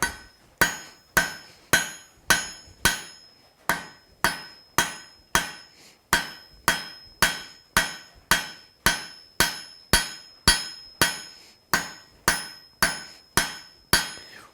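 A hand hammer strikes hot steel on an anvil while tapering stock for a blacksmith's drift, ringing blows landing loud and close in a steady rhythm, roughly two per second with short gaps, each followed by a brief metallic ring.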